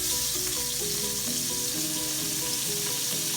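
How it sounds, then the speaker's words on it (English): Butter melting in a pot gives a steady, dense frying sizzle that runs unbroken and fairly loud at close range, with faint stirring underneath and no voices. "In my pot, I'm gonna add a little bit of butter."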